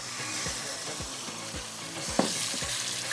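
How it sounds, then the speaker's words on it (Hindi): Minced meat (keema) with chillies sizzling steadily in hot oil for khara masala qeema, with a spoon scraping and stirring the pan in regular strokes and one sharper clatter near the end. "अब इसके अंदर हम डाल देते हैं ये कीमा मिर्चों के साथ। थोड़ा इसको मैं भुनाई कर लूँगी इसको अच्छी तरह।"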